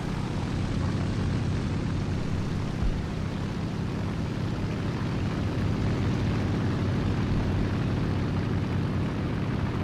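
Steady, loud droning propeller engine of an F4U-4 Corsair fighter in a game dogfight, continuous and close with an even, unbroken roar.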